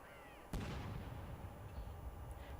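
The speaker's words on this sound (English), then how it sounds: "Cannons fired today as Britain stopped to celebrate" A single deep ceremonial cannon boom cracks out of a quiet scene in Britain, then rolls away in a long, fading echo.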